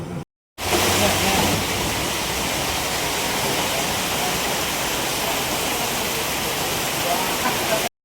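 Water runs steadily from a tap as a food shop counter is wiped clean. The rushing, even stream starts after a brief silence and cuts off abruptly at the end.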